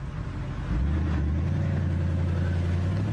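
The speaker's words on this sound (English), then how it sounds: "The sound of the car needs to be recorded, not just so engineers can decide if it purrs like a sports car should." A BMW 6 Series 645Ci engine runs steadily at close range, a deep, even idle hum that firms up slightly after a moment and holds a smooth low drone throughout.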